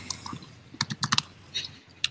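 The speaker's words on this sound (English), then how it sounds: "It's going to be a lot of typing." Typing on a computer keyboard, with irregular bursts of crisp key clicks and short pauses between, close and fairly loud with no voices.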